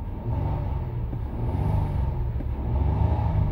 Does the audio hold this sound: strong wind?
no